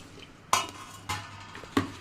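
A lid set down on a pot of soaking tamarind for tomato pickle gives three sharp metallic clinks, evenly spaced and close by, with short ringing decay against a quiet kitchen background.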